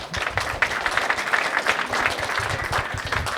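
An audience at a stand-up comedy show claps steadily throughout, a dense, even patter of many hands in a room with no voice over it.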